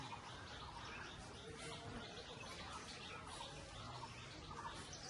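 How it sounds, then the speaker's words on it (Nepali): Birds chirp and tweet in front of a house in a peaceful spot, steady calls scattered across a constant hiss of wind or outdoor background. "यो भ्यू चाहिँ टक्क चराचुरुङ्गीहरूको साउन्ड सुन्नुहुन्छ होला है तपाईँहरूले एकैछिन"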